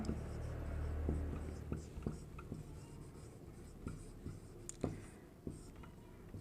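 Pen scratching on paper while a math problem is worked out, soft and close, with short strokes and taps over faint background noise.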